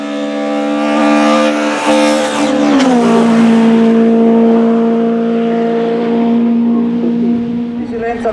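A two-litre Mitsubishi Lancer rally car at the St. Agatha 2021 hill climb: loud, close engine revving in rising and falling pitch sweeps, then settling into a sustained high-revving drone as it passes.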